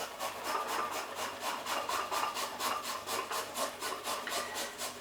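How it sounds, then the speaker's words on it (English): Garlic grated on a microplane grater while making chicken Kiev, a steady rhythmic rasping of quick repeated strokes, close and fairly soft, with no talk. "So I grate the garlic into it and just wipe it off the inside of the grater as well"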